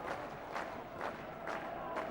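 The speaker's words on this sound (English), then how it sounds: "The crowd reacting with the slow hand clap." A football crowd at a 1981/82 Division Three match between Bristol City and Preston North End keeps up a slow hand clap: faint, evenly spaced claps roughly twice a second, heard from a distance over a low murmur of the stands.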